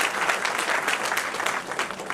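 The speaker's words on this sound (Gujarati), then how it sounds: "એક વાર હજી તાળી થવી જોઈએ" Audience applause at an inaugural function, a dense, steady wash of many hands clapping together, sustained and fairly close throughout, with no talking over it.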